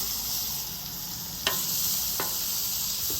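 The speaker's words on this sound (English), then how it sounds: "So I'm gonna flip them back over," Half-pound bacon burgers sizzle steadily on a two-burner Monument Grills griddle, a constant hiss broken by two brief scraping clacks as the patties are flipped.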